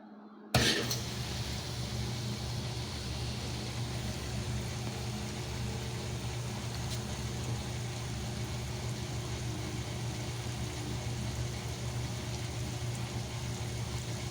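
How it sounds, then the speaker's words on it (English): A 1957 Speed Queen solid-tub washing machine motor starts with a sudden thump, then runs as a continuous low, even hum with a steady mechanical whir for many seconds, no voices. "So is the motor just always on at this point?"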